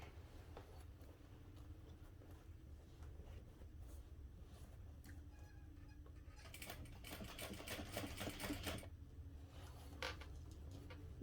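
A sewing machine stitching a backpack runs as a faint, fast mechanical patter that rises into a louder burst of stitching toward the end, heard alone at low volume.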